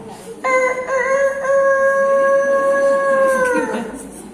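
A single long, drawn-out voice imitating a rooster's crow, steady and loud, held for about three seconds before trailing off.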